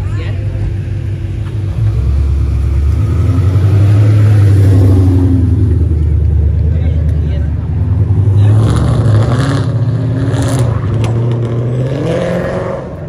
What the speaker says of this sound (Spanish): Qué ruidajo hizo el carro.